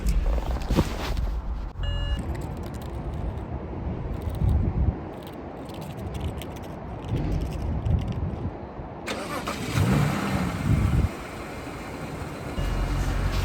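A 2007 BMW 335i Hardtop Cabriolet engine cranks and catches, then settles into a steady idle with a fuller rev partway through, heard up close and alone without talk.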